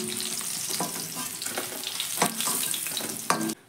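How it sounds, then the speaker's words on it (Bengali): Fish frying in oil in a wok, a steady close sizzle with intermittent spatters and scraping stirs, alone with no talk, cutting off abruptly near the end. "মাছগুলো দুই পিঠই লাল লাল করে আমি ভেজে নিয়েছি"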